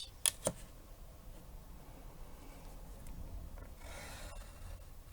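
A pencil draws a line across a piece of wood while a box is being made, a faint, dry scratchy rub following two sharp taps near the start, quiet and close with no talk.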